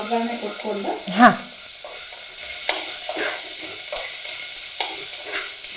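Onion frying in a pan and being stirred, with soft continuous sizzling and several distinct scraping stirs at a moderate, close distance, plus a brief voice early on.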